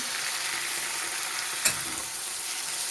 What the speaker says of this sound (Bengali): টমেটোটাকে একটু ভেজে নেব